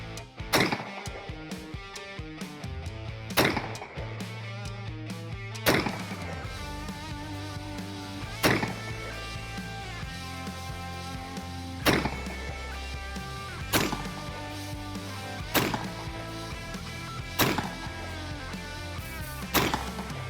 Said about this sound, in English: We'll step back and put a couple more rounds down at the target